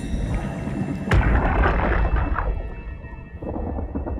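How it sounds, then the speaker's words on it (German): Thunder rumbling underwater in the video game SOMA: a sudden sharp crack followed by a long, deep, muffled rumble that rolls on for several seconds. "seit wann gewittert es denn unter Wasser?"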